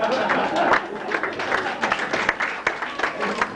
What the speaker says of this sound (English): Ladies clapping their hands hard there